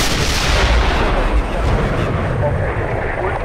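M1A1 tank main gun firing in the Steel Beasts game: a loud, continuous roaring blast with deep low thumps and broadband rumble sustained across the span, up close.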